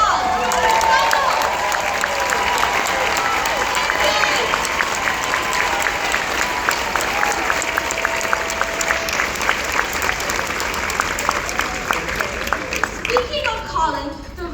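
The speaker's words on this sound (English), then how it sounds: "Everyone give him a big round of applause." A crowd at an Angelman charity evening ball gives a sustained round of applause for a guest who stands up, steady dense clapping that carries on for many seconds before tapering off.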